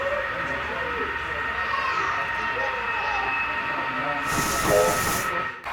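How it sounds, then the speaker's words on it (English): A model railroad train runs through the Klamath Falls Yards industrial area of a layout at the Colorado Model Railroad Museum, a steady whirring hiss with a brief burst of brighter noise near the end. "This train is coming into our industrial area in Klamath Falls Yards."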